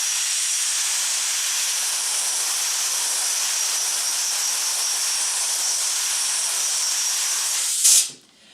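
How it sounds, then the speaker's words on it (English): Compressed air blasts in a steady, loud hiss as a stream holds a screwdriver floating in midair, running unbroken for about eight seconds before cutting off abruptly. "floating a screwdriver in a stream of compressed air"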